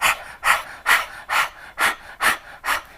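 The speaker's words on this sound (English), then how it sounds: "continue panting just like that through your nose. That is breath of fire." Rapid rhythmic panting through the nose in breath of fire yoga practice, seven sharp evenly spaced breathy exhalations close up, with no talk.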